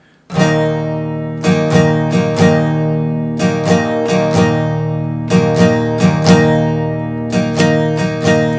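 Electric guitar strumming a single power chord in a steady down-up rhythm, bright and ringing, with repeated strum bursts throughout and no voices.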